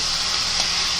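Chicken tikka sizzles steadily in hot oil in a pan, a close, continuous frying hiss with no voices over it.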